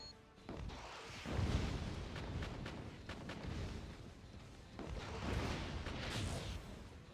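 Flashbang shots fire in a Transformers video game, a few sharp booming blasts with crashing debris over a busy, noisy game soundtrack, fairly quiet overall.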